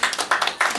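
Applause in a Brazilian parliamentary chamber: three short bursts of clapping hands, each swelling and fading within a fraction of a second, fairly close and lively.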